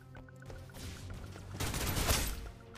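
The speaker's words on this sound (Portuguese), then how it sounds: "Já tô atirando daqui de longe mesmo, pegando uma distância aqui pra matar os inimigos" Sustained gunfire from the video game Snowbreak: Containment Zone, a post-apocalyptic shooter, fired at enemies from long range, swelling into a dense, continuous burst of shots in the second half.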